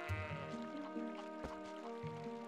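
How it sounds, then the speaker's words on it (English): Goat bleats from the video game Twilight Princess, a few wavering, nasal calls in quick succession over background game music, with no talking. "And the goat just walks away sadly."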